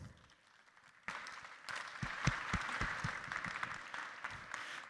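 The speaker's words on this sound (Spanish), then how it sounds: "Les pedir un aplauso para Adriana" Audience applause at a panel talk on water scarcity and drought strategies, starting as a thin patter, then swelling into fuller clapping from a moderate-sized crowd with some sharper individual claps near the front.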